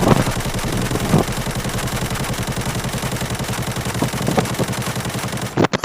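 An AK 74 rifle fires in sustained automatic bursts at a shooting range in Arena Breakout, a rapid, steady rhythm of loud, close shots running almost continuously before cutting off near the end.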